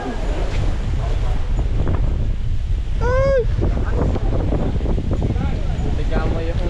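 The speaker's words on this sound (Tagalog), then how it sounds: "Tapos lumakas yung hangin." Strong wind roars steadily over a swamp, buffeting the microphone with heavy low rumble throughout; a brief shout cuts through midway.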